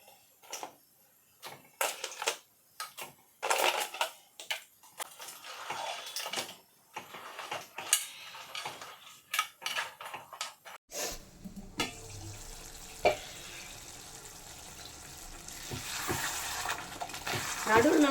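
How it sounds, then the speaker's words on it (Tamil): Cleaned crab being stirred and fried in masala in a pan, heard as scattered clinks and scraping knocks of a utensil, then a softer steady sizzle takes over in the second half. "இப்போ இந்த மசாலா கூடயே நான் நண்டை நல்லா க்ளீன் பண்ணி கழுவி வச்சுருக்கேன்."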